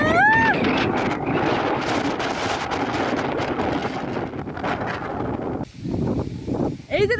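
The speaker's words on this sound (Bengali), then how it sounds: "এই যে দেখো বাতাসটা দেখো," Strong cold wind ahead of a Kalbaishakhi (nor'wester) storm buffets the microphone in loud, steady gusts with a brief lull near the end. Voices can be heard faintly in the background.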